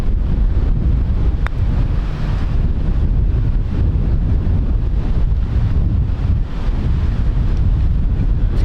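Wind on a golf course buffets the microphone with a loud, continuous low rumble and roar that holds steady throughout, with no talking.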